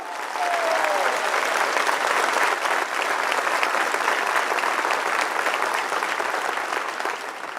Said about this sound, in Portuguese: Aplauda o Senhor aí, meu irmão.